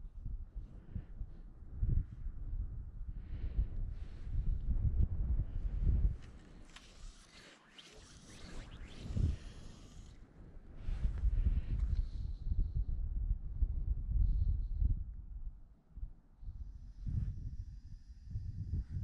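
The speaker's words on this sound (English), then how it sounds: "the wind's come quite cold" Cold wind gusting across an open loch, a steady low rumble of buffeting with stronger surges and brief lulls, close to the microphone and with no voices.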